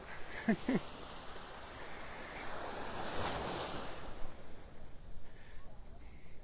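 Ocean waves wash onto the beach at Delnor-Wiggins in North Naples, Florida in the dark before dawn, a soft continuous surf roar with wind noise and faint distant voices.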